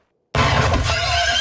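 Horses whinny loudly in the Firefly episode "Serenity", the sound bursting in suddenly after a moment of silence and carrying on with a harsh, crashing edge.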